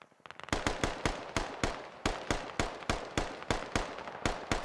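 Gunfire in the Squad military shooter, sharp evenly spaced single shots cracking at moderate distance, about a dozen in steady rhythm after a few quieter pops at the start.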